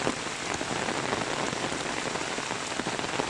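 Heavy rain falls on a village road, water running across the street, as a dense, steady wash of drops that stays loud and constant throughout with no voices.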